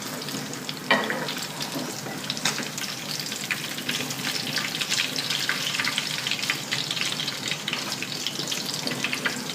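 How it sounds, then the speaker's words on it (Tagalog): Tilapia frying in a pan over low-medium heat gives a steady, dense sizzle with crackling spatter, holding an even level throughout with no talking. "Prituhin natin in a low-medium heat ng ating isda."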